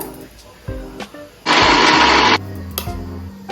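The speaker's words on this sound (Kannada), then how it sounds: "ನೀರು ಹಾಕಿ ಮಿಕ್ಸಿ ಮಾಡ್ಬೇಕೀಗ" A mixer grinder blending masala with a little water whirs loudly for about a second, a dense steady roar that cuts off abruptly, with quieter kitchen clatter before and after.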